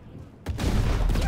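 A sudden loud blast in GTA 5 bursts in after a quiet moment and rolls on as a dense, rumbling barrage of explosions, with no talking.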